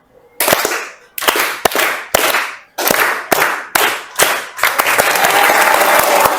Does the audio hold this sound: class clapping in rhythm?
yes